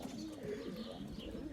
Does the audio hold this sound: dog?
no